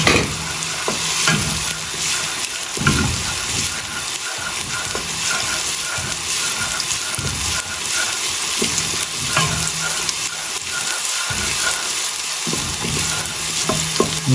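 Chopped onions sizzle steadily in a hot pan during preparation of a homemade crab and corn soup, with a continuous frying hiss and occasional stirring scrapes, close and fairly loud throughout.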